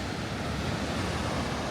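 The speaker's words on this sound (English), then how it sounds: "There's ocean out that way." Ocean surf rolls near a coastal path by the Seacliff Bridge on a walk from Sydney toward Jervis Bay, a steady broadband roar of waves and gusting wind buffeting the microphone, loud and continuous.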